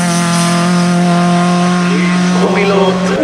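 A race car at a hill climb event in Oberhallau launches from the start, its loud engine tone rising in pitch as it accelerates away, while a commentator speaks over it.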